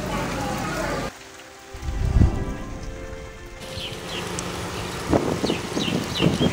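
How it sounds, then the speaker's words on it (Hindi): Heavy rain pouring outdoors in Karachi, a steady broadband hiss that drops out briefly near the start and then returns with scattered louder drips and splashes. "बाहर इतनी तेज़ बारिश हो रही है"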